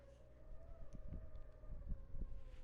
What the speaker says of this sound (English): I don't know if y'all can hear the wind out there,